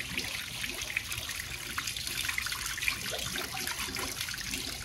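Hot spring water bubbles and gushes steadily into an open-air onsen bath at a Beppu inn, a continuous close, moderately loud splashing rush with no voices.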